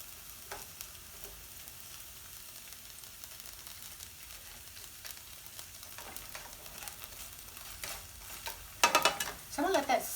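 Frozen okra cooks in a pan with a quiet, steady sizzle and simmer, punctuated near the end by a few louder bursts of spattering or clattering; no voices.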